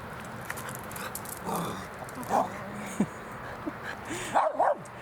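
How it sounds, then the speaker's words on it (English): Dogs bark a few times at a short distance during a riverside walk along the Main, with yips and whimper-like calls over outdoor background noise. "There's some dogs."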